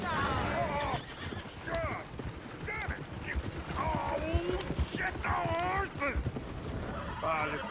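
Horses in the Red Dead Redemption 2 video game neigh and whinny repeatedly over steady clip-clopping hooves and a low rumble of game ambience, with voices talking now and then.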